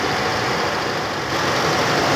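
A car engine runs after a timing belt and hydraulic tensioner replacement, a dense, steady, loud roar heard close up without any break.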